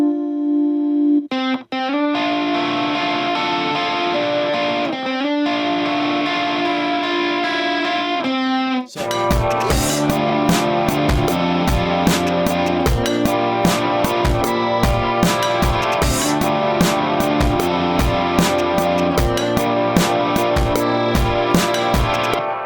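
Electric guitar with added gain and distortion in a producer's sample-pack session, first a sustained chordal passage with brief gaps, then a denser, harder-driven riff with steady rhythmic attacks, loud and up close with no talk.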